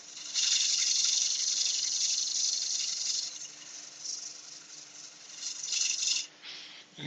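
A workshop dust extractor fan runs with a steady, loud airy hiss that dips and swells partway through as baffles are adjusted, then cuts off near the end.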